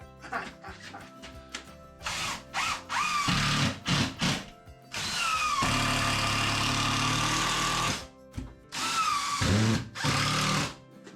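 Screws driven in with a power driver while reassembling, heard as several short whirring bursts followed by a longer sustained run, mixed with handling noise and some talk.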